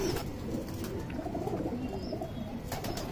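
Madrasi pigeons coo in low rolling murmurs, close and fairly soft, with faint wing rustles and chirps mixed in.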